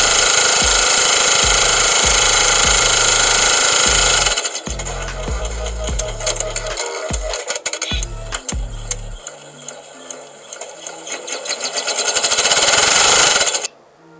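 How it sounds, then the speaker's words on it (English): A Baby Lock Professional embroidery machine runs a placement stitch on a shirt, giving a loud steady mechanical hum with rapid needle chatter that breaks into a choppy, uneven rhythm before the motor surges and then cuts off. "the machine is going and it's going to do my first placement stitch"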